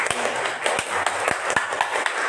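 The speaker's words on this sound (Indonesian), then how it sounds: "Tepuk tangan dulu yang meriah untuk pasangan." An audience at a student council candidate debate at MAN 1 Semarang claps in scattered, uneven bursts, a handful of sharp individual claps standing out against a thin background murmur.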